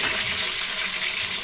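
A fish tail frying in hot oil, a steady loud dense sizzle with no break, filling the whole moment close up.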